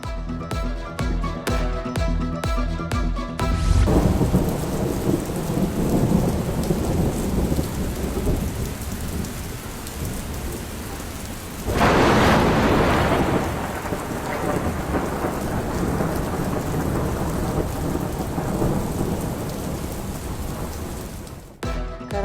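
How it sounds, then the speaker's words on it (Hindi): Heavy monsoon rain pours down over Karachi, a dense steady hiss of rain on surfaces, broken by a loud rumbling thunderclap midway, with no voices over it. "कराची में मानसून ने रंग जमा दिया। शहर के मुख्तलिफ इलाकों में बादल बरस पड़े।"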